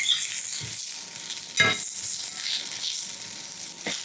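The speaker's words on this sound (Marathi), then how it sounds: "इथे ना भेंडीचा रंग अजिबात बदलला नाही गेला पाहिजे एकसारखी मिसळत अशी परतून घ्या" Okra (bhendi) stir-fried in a pan, a continuous soft sizzle punctuated by a few sharp spatula scrapes and stirring knocks, close and alone without talk.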